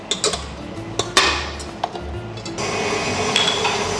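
Egg white and sugar being mixed for meringue: a series of sharp clinks and taps of utensils against a bowl, then from the midpoint a steady whirring of mixing that continues to the end.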